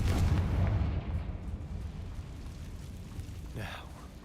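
Confringo explosive spell cast in the Hogwarts Legacy video game, a low rumbling blast with a lingering boom that fades over a few seconds, fairly faint and alone.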